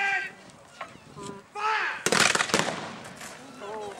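A black-powder cannon fires at a fort tattoo re-enactment, a sharp booming blast with a rolling tail, set among a commentator's voice and crowd noise outdoors.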